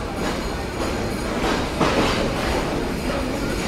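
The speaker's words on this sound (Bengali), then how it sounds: "আমাদের ট্রেন ছেড়ে দিল যশোর জংশন থেকে" The Sundarban Express passenger train pulls out of Jessore Junction in Bangladesh on the Dhaka to Khulna route, with a loud, continuous rumble and rhythmic wheel clatter heard from inside, plus a brief louder clank partway through.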